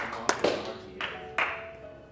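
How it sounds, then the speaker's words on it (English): Scattered light clapping from a small audience at a Resident Evil 2 marathon speedrun event, a few separate claps and taps over a faint background hum. "go ahead and clap"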